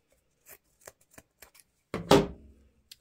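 A few soft, scattered snips and rustles, then one louder crisp cut with a brief rasping tail as scissors cut deco mesh for a wreath, heard close up with no talking.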